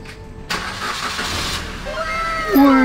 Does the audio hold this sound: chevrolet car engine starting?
yes